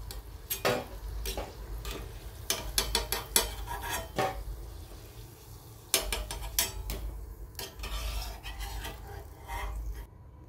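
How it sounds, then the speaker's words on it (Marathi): Jalidar bhaje fritters fry in oil while a slotted spoon clinks and taps against the pan in irregular bursts over a low bubbling sizzle, close and fairly quiet. "आता राहिलेले मी भजे असेच तळून घेते"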